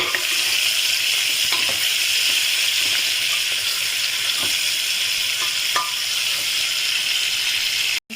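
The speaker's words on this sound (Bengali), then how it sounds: "চিকেনটাকে আমি এর সঙ্গে কিছুক্ষণ একটু ভেজে নেব হালকা" Steady, close sizzling of chicken frying in a hot pan, a bright continuous crackle with occasional small pops and clinks, no voices.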